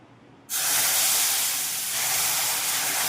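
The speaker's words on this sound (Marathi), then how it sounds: "आता दूध टाकून घेणार आहे" Milk is poured into hot roasted semolina in a pan, setting off a sudden loud, broad hissing sizzle that starts abruptly and continues steadily to the end.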